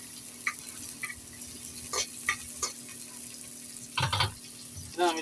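Garlic frying in a pan while cooking adobong kangkong, with a steady low sizzle broken by scattered clinks and scrapes of stirring and a louder burst of activity near the end, nearby and moderately quiet.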